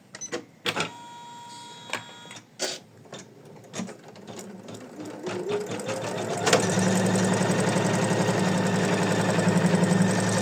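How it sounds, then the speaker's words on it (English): Embroidery machine stitching a placement line on faux leather, a few clicks and knocks starting up, then a steady rapid mechanical whirring hum that settles in loud and close, with no talking. "we will start to stitch with the placement line"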